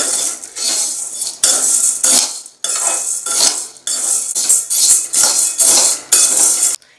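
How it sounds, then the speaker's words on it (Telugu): A spoon scrapes and clatters steadily against a thick pan as urad dal is stirred and dry-fried over low flame, loud repeated metallic strokes in bursts with brief pauses, no talk. "వీటిని ఎక్కడ మాడబెట్టకుండా లో ఫ్లేమ్లోనే దోరగా కూడా కలుపుకుంటూ ఫ్రై చేసుకోవాలి"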